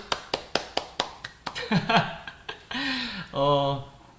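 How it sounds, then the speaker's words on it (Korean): A few sharp, evenly spaced hand claps ring out in a steady rhythm at a Korean parents' academy lecture, then a voice talks over the room. "박수!"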